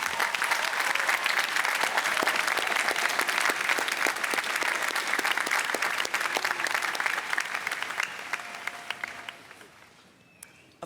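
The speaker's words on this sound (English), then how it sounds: "Students, will you join me in a round of applause for the faculty and staff members?" A graduation crowd at a university finals ceremony applauds faculty and staff with dense, sustained clapping that holds steady for most of the stretch, then thins and fades toward the end.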